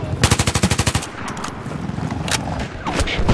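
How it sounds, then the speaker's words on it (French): Rapid automatic gunfire in the tank combat game Battlefield 3, a loud burst of about ten evenly spaced shots, then scattered single shots and rumbling battle noise. "On se fait tirer dessus. Ah, mais c'est moi. Si, on se fait tirer dessus."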